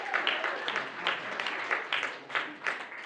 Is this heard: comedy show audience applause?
yes